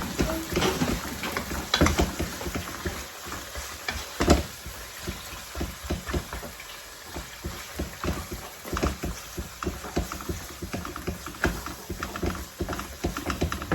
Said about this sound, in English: I'm frying the meat.